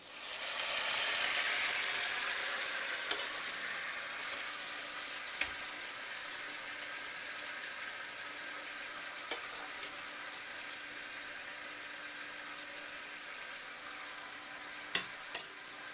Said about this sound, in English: We're going to let this simmer for just a few minutes until the jelly melts and the flavors marry.